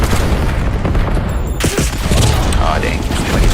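Cluster grenade going off in Black Ops 7, a dense roar of overlapping blasts and crackling debris with a sudden sharp boom partway through, loud and close, while a player talks over it.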